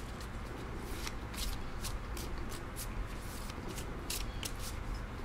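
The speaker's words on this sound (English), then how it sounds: "I will just gently shuffle the deck here, trying not to be too loud near her ears." A deck of tarot cards is gently shuffled up close, giving repeated soft crisp riffles and slides in an irregular rhythm over a low background hum, with no talking.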